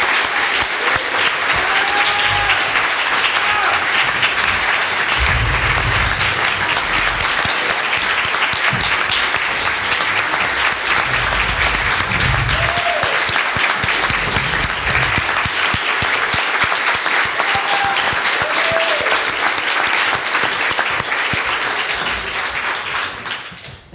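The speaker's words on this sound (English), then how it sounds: "I want to take everybody to applaud these great candidates" A crowd at a congressional candidates' event applauding warmly, dense sustained clapping that fills the room for over twenty seconds with a few voices calling out over it before it tapers at the end.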